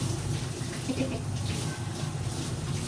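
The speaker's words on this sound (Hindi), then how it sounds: "बर्तन कितने अच्छे धुल जाते हैं ना गरम गरम पानी में" Dishes being washed in a kitchen under hot running water, a steady continuous gush from the tap with faint splashing throughout, close and alone.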